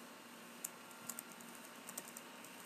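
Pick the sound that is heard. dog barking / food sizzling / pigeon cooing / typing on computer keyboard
typing on computer keyboard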